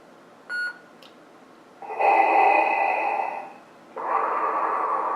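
A Hasbro Force FX Darth Vader lightsaber with an NBv4 conversion board sounds a brief electronic beep, then two longer sustained electronic tones separated by a short gap, clear and close with no talking.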